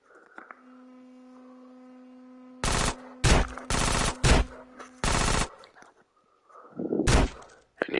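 Gunfire at a shooting range in GTA San Andreas Definitive Edition, several loud bursts of rapid automatic fire separated by short pauses over a low electrical hum, with a quieter rattle at the end.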